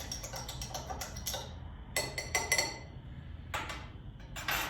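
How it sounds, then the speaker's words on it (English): A bar spoon stirs sugar into a cocktail mix in a glass, making quick clusters of light metallic clinks and ticks with short pauses between bursts. "I'm just going to stir that around real quick with a bar spoon just to kind of get the sugar to melt a little bit into the mix"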